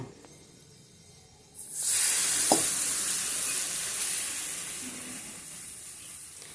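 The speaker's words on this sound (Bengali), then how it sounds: "এবার যে তেলটা গরম হয়েছিল সেই তেলটা আমি এতে অল্প অল্প করে দেব আর মাখিয়ে নেব" Hot oil is poured over green chillies for a Bengali pickle: after a quiet start, a sudden loud, close sizzle erupts and holds steady, easing slightly as a spoon mixes the chillies through the oil.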